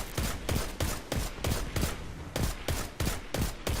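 A pulse grenade going off in Destiny, rapid repeating bursts of sharp, punchy blasts in a steady rhythm, about ten pulses in under four seconds, loud and close.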